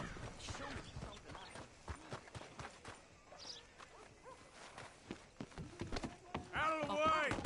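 Horse hooves clip-clop at a steady trotting rhythm in Red Dead Redemption 2, fairly quiet and close, mixed with scattered thuds and brief voices of characters speaking over the hoofbeats.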